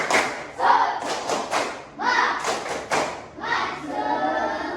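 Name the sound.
class clapping the 'tepuk semangat' rhythm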